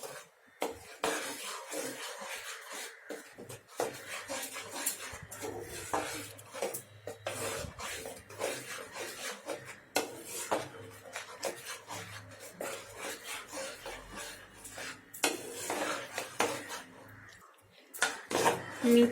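Metal spoon scraping and clinking against a cooking pan as masalas are stirred into palak paneer gravy, a busy run of close, irregular scrapes and taps with no voices.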